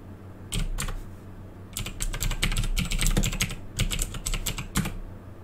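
Fast typing on a computer keyboard while entering a fastboot command in PowerShell to unlock a T-Mobile OnePlus 6T bootloader, bursts of close, crisp key clicks with short pauses, no voices.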